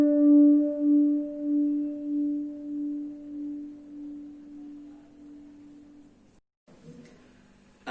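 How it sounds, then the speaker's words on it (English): A guitar holds a single sustained note with circular vibrato, its pitch wavering steadily as the note slowly fades over about six seconds, followed by a brief scrape of handling noise. "that's the circular vibrato."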